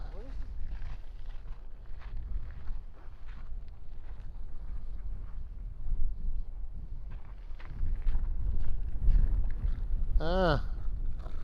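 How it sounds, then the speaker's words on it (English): Strong wind buffets a mounted camera overlooking the Kilauea volcano eruption, giving a steady low rumbling roar that swells a little toward the end, with a brief voice near the close. "it's actually windy enough that it's blowing the camera because of the way I have it mounted"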